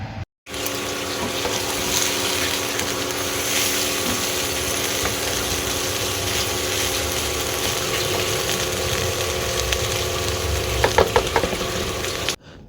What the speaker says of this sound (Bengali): মানু কিন্তু এখানে আলু ভাজা করছে